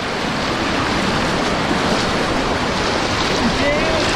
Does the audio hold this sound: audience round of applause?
no